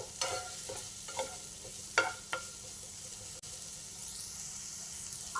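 Vegetables frying in a pan, a soft continuous sizzle with a few scraping stirs and light taps of a spatula, close and fairly quiet.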